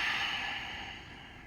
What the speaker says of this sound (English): we're going to exhale